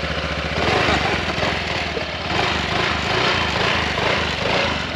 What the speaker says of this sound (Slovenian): A daj malo gas, da slišimo tale stroj.